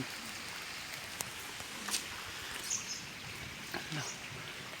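Steady rain pours down outdoors over a village farm field during a night of heavy clouds, a dense continuous hiss with scattered louder drops and splashes, broken by faint noises in the background.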